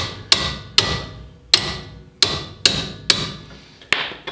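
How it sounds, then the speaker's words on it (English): A hammer taps a wrench fitted on the front brake caliper slide pin bolt of a Nissan 240SX, seven sharp, ringing metallic strikes spaced about half a second apart, loud and close with no talk. "I got a hammer to help kind of break it loose. Give her a couple tappy tappies."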